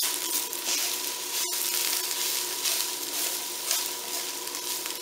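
Bacon frying in a pan with kale, a continuous close hiss and crackle of fat, one sharp click near the start, otherwise steady with no voices.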